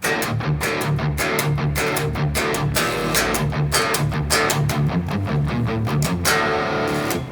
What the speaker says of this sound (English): today we are looking at palm muting so that you can write riffs and make sounds